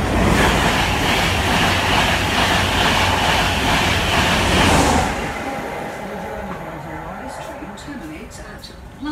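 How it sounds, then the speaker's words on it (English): Train running from London King's Cross toward Stevenage, a loud, close, continuous rumble with rhythmic rail clatter that drops to a quieter roll partway through, with faint voices beneath. "Here we are on the train."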